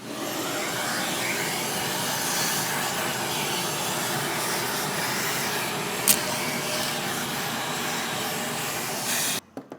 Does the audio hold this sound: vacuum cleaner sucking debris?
yes